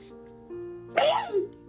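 A single sharp sneeze bursts out after a steady low hum, followed by a brief voiced tail.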